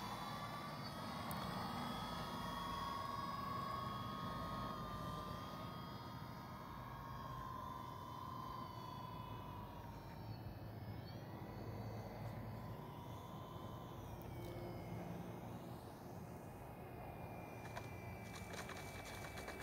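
A Sea Duck model seaplane flies over Higgins Lake and comes in to land, its engine a steady, fairly distant drone whose pitch slowly rises and falls as it passes and lets down, with no talk heard.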